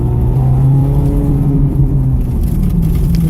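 A Ferrari accelerates at full throttle with paddle shifts, a loud close engine drone holding steady and then dipping slightly as it shifts, with cabin rumble and no talk.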